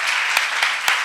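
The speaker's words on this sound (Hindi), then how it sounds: "जोरदार तालियां, जोरदार तालियां।" Church congregation applauding during a Mother's Day service, a steady dense wash of clapping with a few sharper bursts of hands standing out, continuous and close with no talking over it.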